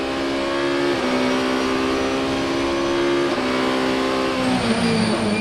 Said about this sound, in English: Mason's Dodge Viper again carries lots of speed, but the nimbler Ferrari closing right in under braking